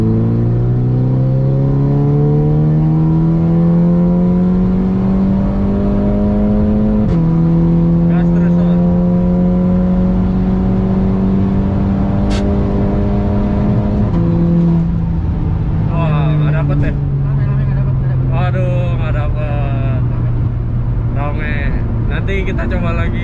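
A car accelerates hard through a 100-200 km/h run, its engine droning in a rising pitch that drops briefly at each of several gear shifts, loud and close from inside the cabin, with people talking over it near the end.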